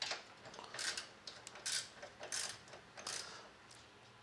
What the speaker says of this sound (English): Okay, just tightening up all the bolts.